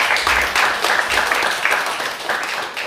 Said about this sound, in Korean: 우리 격려와 축하의 박수 하겠습니다